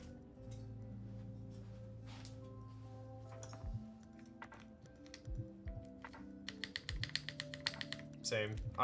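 Keys typed on a custom mechanical keyboard, sparse clicks at first, then a quicker run of close, crisp taps, while a voice talks and steady tones hum in the background.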